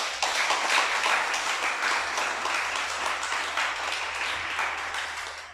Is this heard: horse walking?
no